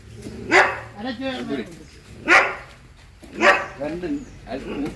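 A local dog in Jaffna barks three or four times at a steady pace, loud and close, with people talking in between and around the barks.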